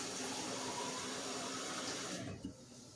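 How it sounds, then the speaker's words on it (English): A soup can being filled with a little water from a tap: a steady, soft rushing stream that runs for over two seconds and then cuts off, with a faint knock as it stops. "take this and fill it up with just a little bit of water"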